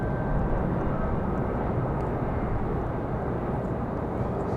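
An Airbus A320 airliner arriving at Raleigh-Durham International from MCO produces a steady, moderately loud engine rumble that holds evenly without voices.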